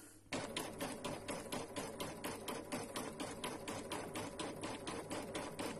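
An embroidery machine stitches out a flower design, its needle hammering in a fast, steady, even rhythm that stays loud and close throughout, with a low motor hum underneath and no talking.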